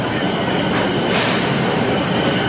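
An MBTA Green Line light-rail train on the Medford extension rumbles past close by, a steady loud roar of wheels and rail noise filling the whole stretch without a break.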